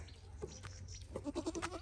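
A goat bleats several times in short, wavering calls, louder toward the end, over a steady low background hum, with goats being gathered for a masquerade festival.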